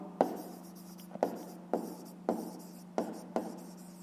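Handwriting on paper during a fifth-grade maths exercise: six crisp, evenly spaced pen strokes scratch out one after another against a faint steady hum, close and fairly quiet.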